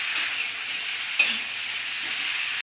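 Jackfruit cooking with spices in a covered pan for a Bengali echor dish with masoor dal bori, giving a steady close sizzle with one brief louder clatter near the middle before it stops abruptly.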